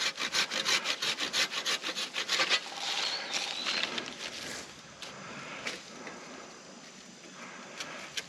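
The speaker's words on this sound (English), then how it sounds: "Guess I can saw this off as well." Handsaw cutting through the damaged top of a tree, steady rapid back-and-forth strokes close by, fading into slower rubbing scrapes toward the end.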